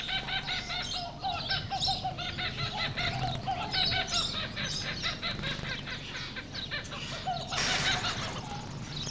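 A dense mix of birds calling, with honking goose-like and fowl cries and chirps, fills an outdoor scene at Taronga Park Zoo, Sydney, continuous and fairly loud with no voices.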